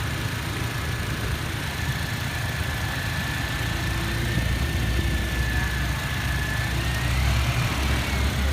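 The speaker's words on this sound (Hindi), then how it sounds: "अब गैस चलते हैं इसके इंजन की तरफ और इसकी साउंड भी चेक करते हैं।" Petrol 2.7 litre engine of a 2020 Toyota Fortuner G variant running steadily with a low, even rumble that swells slightly toward the end, close up and with no voices over it.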